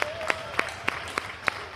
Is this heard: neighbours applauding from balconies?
yes